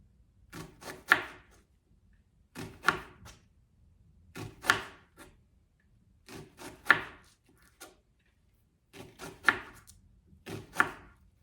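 A knife slices onions thinly on a cutting board, heard as clusters of crisp chopping taps. The taps come in short bursts about every two seconds, separated by near silence, close and fairly loud.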